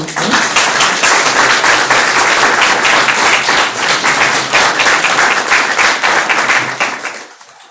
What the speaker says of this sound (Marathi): मला वाटतं टाळ्या वाजवल्या तर काही बिघडणार नाही.